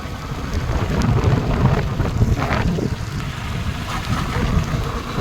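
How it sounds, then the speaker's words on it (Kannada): Rain falls steadily with a dense patter and hiss during a motorbike ride from Thirthahalli, mixed with gusty wind rumble and low buffeting throughout. "ನೋಡಿ ವಾವ್ ಮಳೆ ಬರ್ತಾ ಇದೆ"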